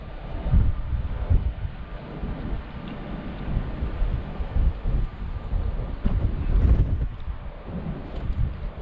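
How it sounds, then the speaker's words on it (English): Steady wind buffeting a microphone outdoors on the River Humber shore, a low continuous rumble with gusts swelling and fading; no voices. "It is windy"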